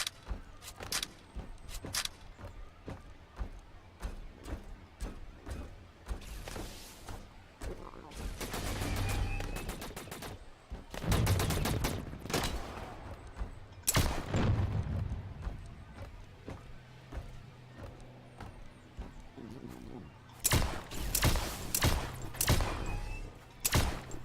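Bandits fire guns in the video game The Signal From Tolva, with sharp bursts and scattered single shots from varied distances, some loud and close, others faint, between quieter gaps.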